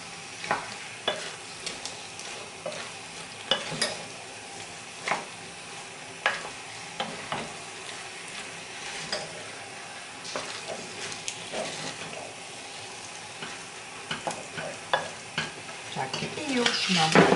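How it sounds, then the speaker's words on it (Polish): Dry jelly powder is stirred into cooked apples with kisiel in a pot, making soft wet swishes with sharp clicks of the utensil against the pan at irregular intervals, close and quiet, with no talk. "I już mam ugotowany kisiel, dokładam suchą galaretkę, mieszam"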